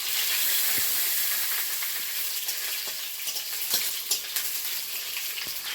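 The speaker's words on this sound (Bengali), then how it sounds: "তেলের মধ্যে একটু শুকনো লঙ্কা দেবো" Dried chilli sizzles and hisses loudly in hot oil as a steady frying crackle with occasional pops. No talking is heard.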